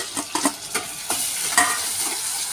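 Tomato added to sautéed onion fries in a pan, a steady sizzle punctuated by several distinct scraping strokes of a spoon, close and moderately loud, with no one speaking.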